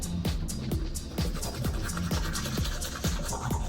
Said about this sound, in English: I'm gonna brush my teeth for a minute.